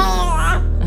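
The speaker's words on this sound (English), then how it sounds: "Excuse my baby, she's a loud talker." A baby's loud, voiced babbling and squealing fills the moment, close and continuous, with a low hum underneath.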